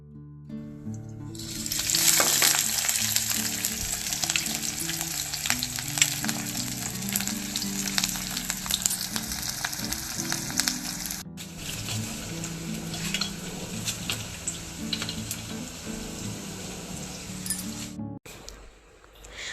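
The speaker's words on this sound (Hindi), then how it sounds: "पनीर को आगे आज मैं फ्राई करके बनाऊँगी" Paneer frying in a hot pan, a loud steady sizzle that carries on for most of the stretch with occasional stirring, with no one talking.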